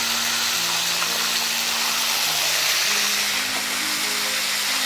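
Chicken frying in a pan sizzles steadily after about half a cup of sour yogurt is added, a dense continuous hiss and crackle with low hum beneath, no talking.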